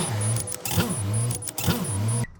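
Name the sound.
2005 Toyota Corolla engine starting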